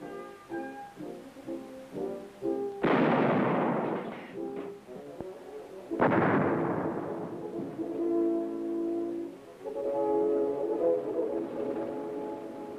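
Military training fire at an army armor school in Taiwan: two heavy booming blasts a few seconds apart, each with a long rumbling decay, under a steady droning music or engine tone.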